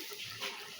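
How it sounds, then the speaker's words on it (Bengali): Water poured into a pan of braised quail meat, a short steady splashing rush that swells briefly midway, fairly close and alone. "পানি দিয়ে দিলাম"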